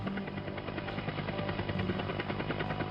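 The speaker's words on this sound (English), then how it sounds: "The Coast Guard's rescue helicopter, an MH-60 Jayhawk, roars to life, its rotors whirring as it lifts off from the deck of the cutter." A Coast Guard MH-60 Jayhawk rescue helicopter lifts off from the deck of a cutter, its rotors producing a loud, steady, rapid chopping drone with a continuous engine whine, unbroken and close.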